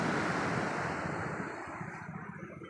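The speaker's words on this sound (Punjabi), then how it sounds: "ਹੁਣ ਬਿਲਕੁਲ ਸਮੂਥਲੀ ਜਿਹੜਾ ਪਾਣੀ ਹੈ ਉਹ ਲੰਘ ਰਿਹਾ ਹੈ" The Ghaggar river rushes steadily past a siphon bridge in a loud, continuous broadband roar, with some wind buffeting the microphone.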